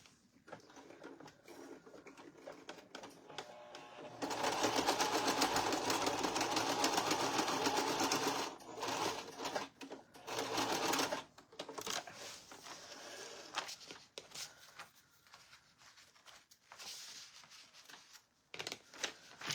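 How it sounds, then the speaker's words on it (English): A sewing machine runs in a steady burst of rapid stitching, then stops and restarts in shorter bursts with quiet pauses between. "I just recently got my sewing machine back out"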